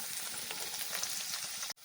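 Steady, loud sizzling of potatoes frying in hot oil over a high gas flame, a dense crackling hiss throughout with a brief dropout near the end.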